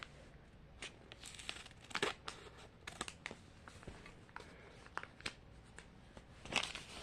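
A toy packet is cut open with scissors, giving soft, close crinkling of plastic and small sharp snips spread irregularly throughout, fairly faint.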